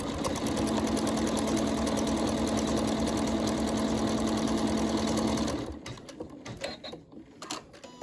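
An embroidery machine stitches a side seam between two tacks on a pincushion project, a loud, steady rapid mechanical whir running unbroken for several seconds before cutting off into quieter handling clatter.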